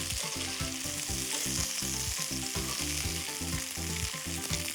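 A pork steak fries in a frying pan with a steady, close crackling sizzle and spitting fat, punctuated by regular soft tapping and clattering, no voices.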